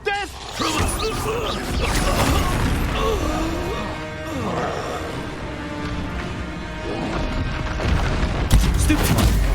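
Explosive spell blasts from the Expulso and Confringo curses in the video game Hogwarts Legacy: loud booms and crashing bursts over a continuous bed of game music and voices, with a heavier blast near the end.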